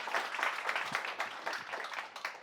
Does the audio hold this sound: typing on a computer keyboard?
no